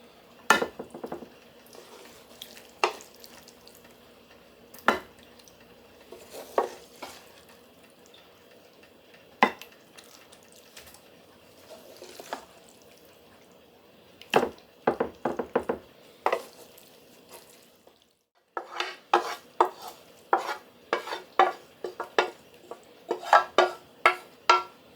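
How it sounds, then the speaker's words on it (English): Taco tots are moved into a casserole dish in a home kitchen, with scattered clinks, scrapes and knocks of utensils against cookware, sparse at first and then coming in a quicker cluster near the end, close and fairly quiet. "let's get it transferred to my casserole dish."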